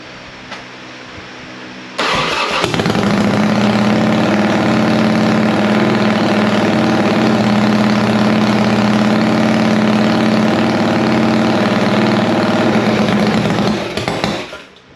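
A custom Sporty chopper motorcycle fires up on its first start after two seconds of near quiet, then settles into a loud, steady, close-up idle that rumbles on until it cuts out at the very end.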